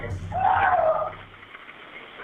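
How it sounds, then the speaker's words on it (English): A recorded 911 emergency call carries a distant, distorted scream for help over the narrow, tinny phone line, a wailing cry lasting about a second before fading into faint line hiss. "that explosive 911 call with those blood-curdling screams"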